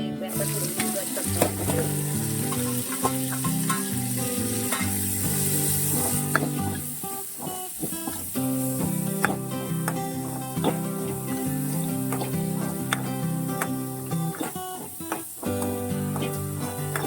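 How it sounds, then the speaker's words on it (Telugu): A tempering for a potato fry spits and sizzles in hot oil in a pan, a continuous loud frying hiss with crackles, punctuated by stirring clinks of a utensil against the pan. "అదిగో తాలింపు అయితే వేసేసాను."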